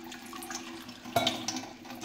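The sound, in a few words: half cup of water poured onto soaked wheat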